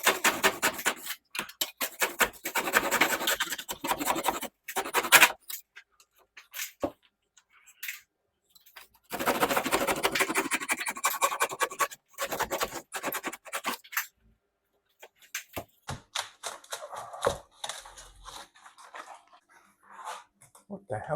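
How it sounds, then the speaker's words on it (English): A handsaw rasps through ceiling plaster in irregular bursts of scratchy strokes, close and fairly loud, broken by pauses and light knocks. "I should just be able to run a handsaw cleanly along here now."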